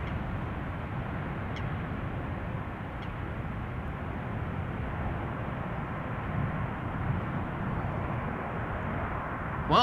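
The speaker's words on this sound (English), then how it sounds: "the Emirates A380 has arrived" An Emirates Airbus A380 arrives at Schiphol Airport, heard as a steady low, distant jet rumble and broad roar that holds evenly for several seconds without voices.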